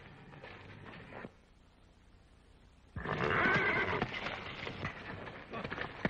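A horse lets out a loud whinny midway, following a quieter stretch, with some background clatter around it.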